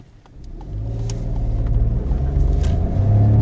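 A 2023 Ford Puma 1.0 with 125 hp and a manual gearbox pulls away hard from a standstill with wheelspin, its engine note rising steadily and growing louder close by.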